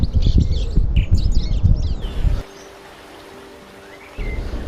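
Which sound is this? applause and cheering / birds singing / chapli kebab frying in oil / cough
birds singing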